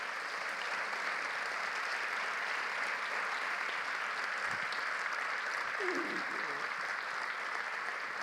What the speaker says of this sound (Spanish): Un aplauso enorme para ellos.